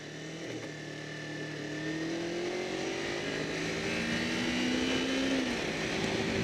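A Kawasaki Ninja 250 motorcycle with stock exhaust drones and climbs steadily in pitch as it accelerates through the gears, a smooth, moderately loud exhaust note throughout.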